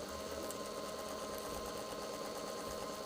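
A sewing machine stitching with a blunt needle runs at a steady, fast, even chatter, a continuous close mechanical whirr with rhythmic clicking throughout.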